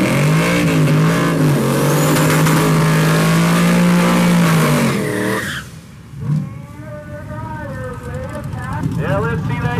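A car at a drag race, all-motor against turbo, revs hard with a loud, rising engine howl that cuts off abruptly partway through, then a quieter rumble and tire noise follow as the run continues.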